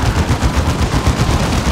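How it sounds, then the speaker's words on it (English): A Vindicator tank cannon fires on a Warrior Brood in Dawn of War 2: Retribution, bursts of loud booming battle fire rattling rapidly in a dense, continuous volley. "Can he get a model off this Warrior Brood with a Vindicator shot?"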